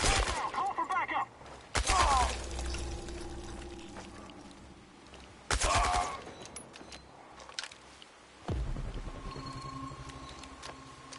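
AK rifle fire in Chernobylite comes in a few loud bursts separated by quieter stretches, with echoing tails and a low rumble between shots.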